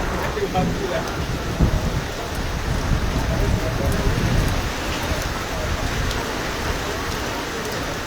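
Steady heavy rainfall in Rupnarayanpur drums on surfaces nearby, a dense, continuous hiss with scattered sharper drop impacts and low rumble throughout.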